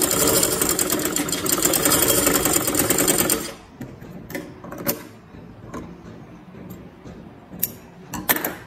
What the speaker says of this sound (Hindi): पहले एक साइड को हमने सिलाई लगाई है